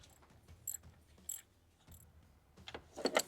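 A ratchet tightens the VANOS solenoid screw on a BMW N52 engine, making a few faint, close metallic clicks and ratcheting bursts separated by quiet gaps, with no talking.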